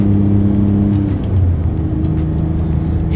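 A sports car with a 6-speed transmission drives along, its engine giving a loud steady mechanical drone with a brief dip and rise, heard close from inside or near the car without talk.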